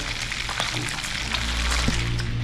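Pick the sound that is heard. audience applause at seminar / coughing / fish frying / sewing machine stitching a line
fish frying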